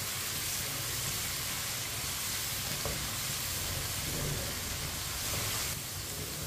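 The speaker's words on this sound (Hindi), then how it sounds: "एक चम्मच कुटा हुआ अदरक, एक मिनट के लिए पका लेंगे दोनों चीजों को।" Crushed ginger and garlic frying in a pan, a steady, close sizzle and hiss that runs unbroken throughout at low volume, with no voices.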